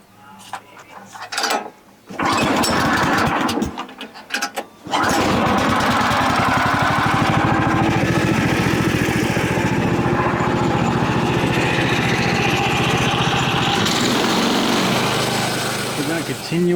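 A gasoline-powered sawmill cuts the faces of timber frame knee braces, its engine running loud and steady after a few short bursts at the start, with occasional voices under the roar.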